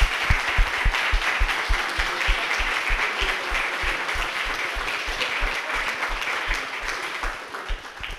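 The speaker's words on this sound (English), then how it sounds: "would you please join me in a round of applause for our speakers," A conference audience applauds speakers at a Florida water-law session, a sustained room-filling round of clapping with steady dense patter and faint voices mixed in, tapering slightly toward the end.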